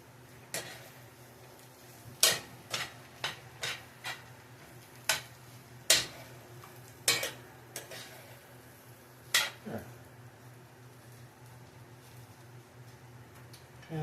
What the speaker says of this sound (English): So just give that a little bit of a stir